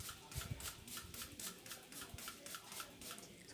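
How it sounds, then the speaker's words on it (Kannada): Repeated quick hisses of a spray bottle misting diluted engine cleaning liquid, mixed one part cleaner to one part water, across a car engine bay; about a dozen short bursts in a steady rhythm, close and moderately loud, with no speech. "ಸ್ವಲ್ಪ ಎಲ್ಲ ಕಡೆ ಸ್ಪ್ರೇ ಮಾಡಿ"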